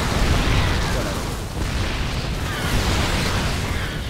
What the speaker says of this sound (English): The Hellbats are tanking the locust fire, while the tanks are actually shooting at everything else.